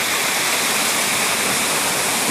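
A mountain stream rushes with a loud, continuous hiss of flowing water, close and steady, with no voices.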